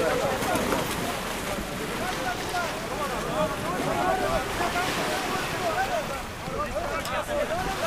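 A boat heads in across the open sea, its engine a low rumble buried in loud wind buffeting and the wash of waves; someone talks over the noise.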